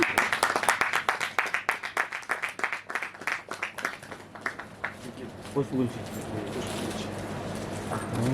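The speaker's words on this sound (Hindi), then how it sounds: "जोरदार तालियों के साथ।" Loud, dense clapping from a crowd at a Hindu religious gathering before the Ram Lalla consecration ceremony, with rapid overlapping claps for several seconds that then fade into a murmur of voices and background chatter.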